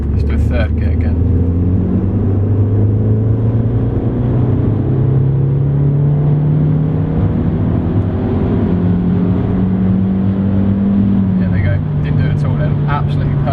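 Audi S3 8L engine pulling hard in third gear, revving steadily up through the range with a loud, continuous droning note that climbs in pitch, close and dominant throughout.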